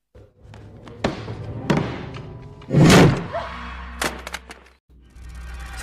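A door is forced open from the other side in a horror film scene, with heavy thuds and knocks building to a loud, booming crash at the centre, then scattered bangs and a low rumbling tail.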